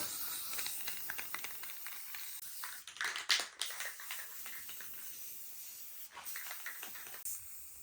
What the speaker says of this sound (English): I'm gonna spray 3 light coats, very light coats, this satin clear.